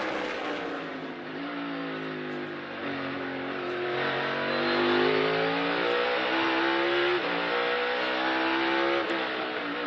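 A NASCAR stock car launches and accelerates on the Sonoma road course during practice and qualifying, its engine note rising and falling through the gears in one continuous loud roar, with no voices over it.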